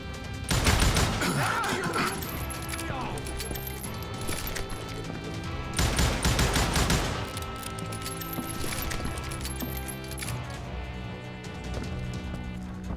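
Gunfire in the Western shooter Call of Juarez: Gunslinger comes as dense, loud bursts of rapid shots over a continuous backdrop of game music.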